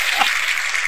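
A recorded applause sound effect played back during a casual chat: a brief burst of dense, steady clapping, loud and continuous, with no voices over it.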